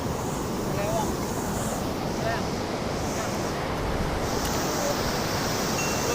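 Ocean surf rolls and washes continuously at Pantai Cemara beach, a loud, dense roar mixed with heavy wind buffeting the microphone and faint voices underneath.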